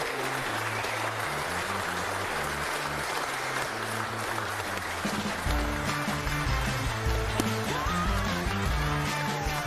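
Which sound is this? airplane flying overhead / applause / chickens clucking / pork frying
applause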